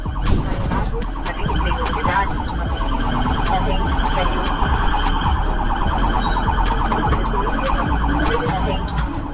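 An ambulance siren wails steadily throughout, loud and continuous over a dense bed of traffic and street noise, with no clear talk.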